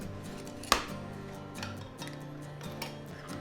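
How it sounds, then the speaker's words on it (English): An egg cracked against a bowl of scone dry ingredients in a home kitchen gives one sharp, close crack, followed by faint light clinks over a steady low background hum. "If you wanna crack the egg there in the middle."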